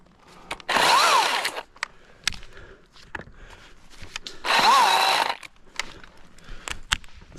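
A Milwaukee battery chainsaw, used for professional tree work, revs in two brief bursts about three seconds apart. Its whine rises and falls in pitch, with light clatter and quieter handling noise between the bursts.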